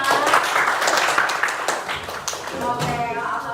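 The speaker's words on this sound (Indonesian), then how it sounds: "tepuk tangan buat kita semua" A classroom group claps for itself at a teacher-training session, a short burst of scattered applause that thins out after a couple of seconds while a voice talks over it.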